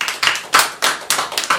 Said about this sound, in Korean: 우리 예수님께 박수 한번 합시다.